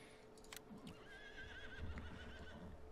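A horse whinnying in the video game Farming Simulator 19, a fairly faint, shrill neigh with a quavering tail, over soft hoof clops and low background noise.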